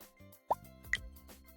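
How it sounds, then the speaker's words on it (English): A website's popping sound effect, two soft bubbly plops about half a second apart, faint over a quiet background hum. "Why is it making a popping noise?"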